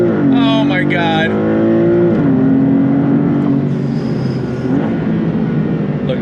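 A Maserati MC20 supercar launches hard on launch control, its engine howling up through steady rising revs with a gear-change dip, loud and close, while a voice shouts briefly at the start.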